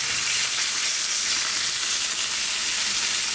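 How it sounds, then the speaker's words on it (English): A New York strip steak sizzles loudly in a hot pan on a stovetop, a dense, steady crackling hiss with no pauses, close and continuous. "You just want it to sizzle up nice and good."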